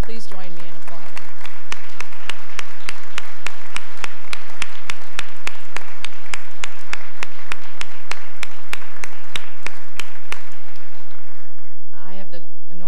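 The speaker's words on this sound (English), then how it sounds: "please join me in applauding." A crowd applauds steadily for about twelve seconds, loud and sustained, fading out at the end as a voice begins.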